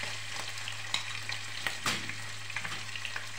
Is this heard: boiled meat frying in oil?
yes